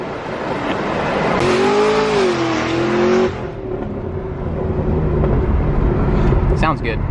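A car fitted with a Corsa exhaust revs loudly at a street meet, its engine note rising and holding in a sustained roar before dropping, with people talking and whooping over it.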